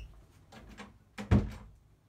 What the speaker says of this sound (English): Close the door, love.